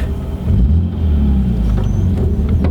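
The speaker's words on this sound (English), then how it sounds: "there's more of an induction sound coming into the cabin" A loud, low engine drone and intake rumble from an aFe intake on an E36 BMW M3 fills the car interior, steady and throaty as the vehicle accelerates.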